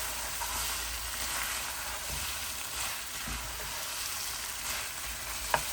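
Fiji-style white chicken fry with tomato, whole spices and fresh coriander is stirred in a pan, giving a continuous close sizzle with soft scraping movements and a sharp utensil click near the end, with no voices.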